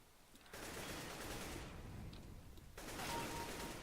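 Rapid gunfire in the game CS:GO, a gun-game round: a sustained burst of bright crackling shots fills the middle of the clip, then resumes louder near the end, with no talk over it.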